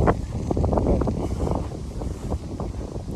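Steady gusting wind buffets the microphone with a low, rumbling roar throughout, no voices heard.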